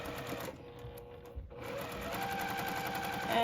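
A sewing machine runs along curved quilt block seams, its fast rhythmic stitching briefly pausing in the middle before resuming steadily and close.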